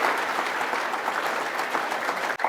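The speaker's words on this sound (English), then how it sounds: "Can we have a round of applause for the Ranger wives?" Dinner guests at a Texas Supreme Court historical society banquet give a round of applause for the Ranger wives, an even, moderately distant wash of clapping sustained throughout, with a sudden brief dropout just before the end.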